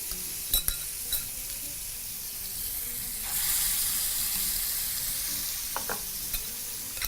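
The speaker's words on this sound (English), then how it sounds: "proceed to cook for the first side, making sure that your piece of fish sits right over a shallow part of the pan with oil" Fish sizzles in shallow hot oil in a pan for a Chettinad fish fry, a soft steady crackle that swells partway through, with a few sharp clicks of utensils.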